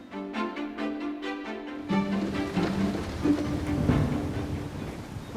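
Wind and rain blow across an outdoor plein air painting spot at Trerice in the UK, a steady broadband hiss and patter. A few sustained tonal notes sound briefly at the start.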